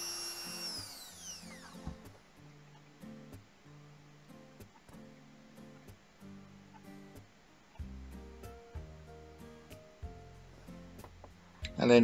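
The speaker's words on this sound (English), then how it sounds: "So I'm now using a deburring tool just to get the domed shape off of the axle." A deburring tool grinds the domed end off a Matchbox Ford Thames Trader toy car axle in a series of short, rhythmic scraping bursts, close and moderately loud, with no talking.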